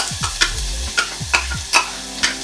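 Onions dropped into hot oil for a clementine chutney, a close sizzle broken by several sharp scraping stirs and clinks of a utensil against the pan, with no talking.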